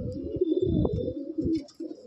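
Madrasi Andhra pigeons coo in a loft, a close series of soft, throaty rolling calls in short bursts with brief pauses, one bird following another.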